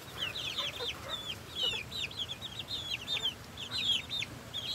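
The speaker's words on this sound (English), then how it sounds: "Gotta give you guys an update on what's been going on out here at the chicken coop." Chickens clucking repeatedly at a farm chicken coop, a steady run of close, bright calls over low outdoor background noise, with no talking.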